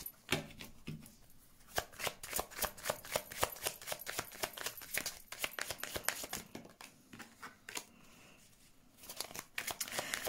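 Tarot cards shuffled by hand for a reading, a quiet, close run of rapid papery riffles and slaps in uneven bursts, with a short pause near the end.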